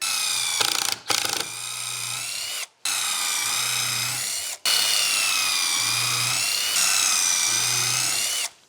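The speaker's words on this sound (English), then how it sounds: "We're gonna go ahead and we're gonna drill 2 screws into these sides right here." A power drill whirs in several long bursts, revving with short pauses between, driving 2 1/4 inch screws into wooden shelf pieces up close with no talking.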